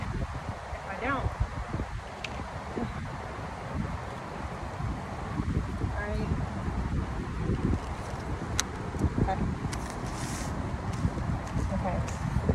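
Outdoor wind blowing on a windy day, a steady gusty rush with microphone buffeting and faint rustling, with a voice talking intermittently over it.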